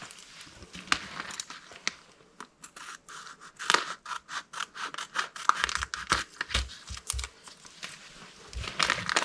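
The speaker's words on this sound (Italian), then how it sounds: "quindi non tirerò con le mani ma userò le forbici." Scissors snipping open product packaging for an RC model kit, a series of crisp, close cuts and rustles, sparse at first and then quicker clusters, with no speech.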